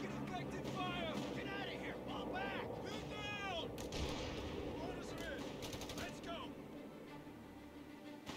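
Artillery fire in the Company of Heroes 3 video game, with booming shots and battle noise running steadily under game sound effects and overlapping chatter throughout.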